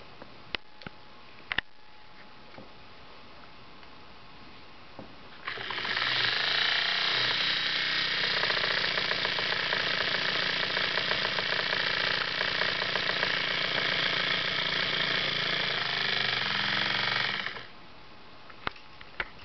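A small electric motor with a three-pole armature and fixed permanent magnets spins a propeller, whirring steadily and loudly for about twelve seconds after a few faint clicks, then cutting off abruptly.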